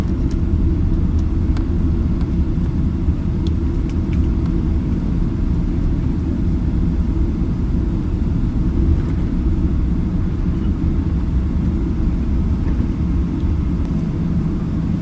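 An Emirates Boeing 777 on flight EK109 from Larnaca taxis at Malta International Airport after landing, with a steady, loud, low cabin rumble that continues without a break.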